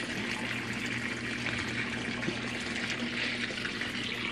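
Water spills steadily from an overfilled fish tank filter, a continuous close splashing and trickling wash with a faint hum underneath.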